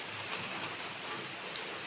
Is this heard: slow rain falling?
yes